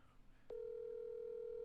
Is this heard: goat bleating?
no